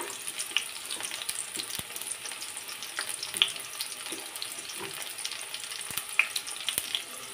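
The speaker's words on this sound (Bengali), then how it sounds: "তো এখন এগুলো একটু ভাজি করে নিতে হবে তেলে।" Bay leaf, cumin, cinnamon, cardamom, chopped onion and green chilli frying in hot oil, a close, continuous crackling sizzle with scattered sharp pops and occasional stirring scrapes, no voices.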